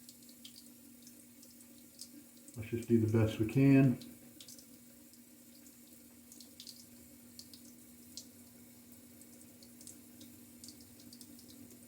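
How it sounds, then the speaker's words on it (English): Water runs from a tap for about a second and a half, a close gushing splash added to shaving lather, while someone talks quietly before and after. "Let's start adding water now."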